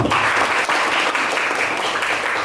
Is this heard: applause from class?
yes